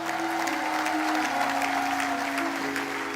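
A church congregation applauding and cheering, with steady, dense clapping from a large crowd throughout and a few voices calling out within it.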